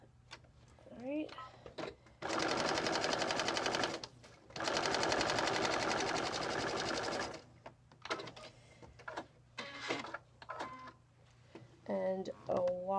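A sewing machine stitching quilt quarter squares, two steady, close runs of rapid mechanical stitching separated by a short pause, with someone speaking before and after and small handling clicks.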